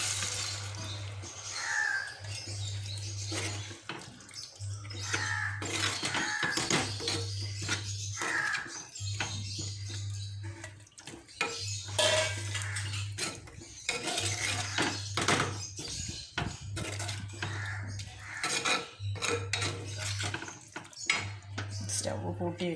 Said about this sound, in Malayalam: ഞാൻ നമ്മുടെ ഇറച്ചി ഇട്ട് കൊടുക്കുകയാണ്